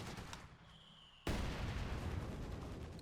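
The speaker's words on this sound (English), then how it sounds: "I'm hearing machine gun fire." Machine gun fire in Company of Heroes 2 erupts suddenly after a quiet moment, a loud continuous rattling burst that persists to the end with a dense, crackling texture.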